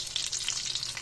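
Lumpia filled with bean sprouts sizzling in hot oil, a bright, steady crackle and hiss with no talking, heard up close over a brief moment.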